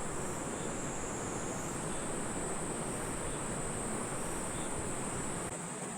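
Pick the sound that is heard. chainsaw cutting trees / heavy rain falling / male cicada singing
male cicada singing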